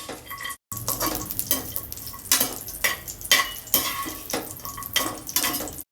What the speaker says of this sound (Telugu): ఇక్కడ ముందు కొంచెం జీడిపప్పు, కిస్మిస్, కొంచెం నూనె, కొంచెం నెయ్యి వేసుకొని 2 స్పూన్లు వేయించి పక్కన పెట్టుకోండి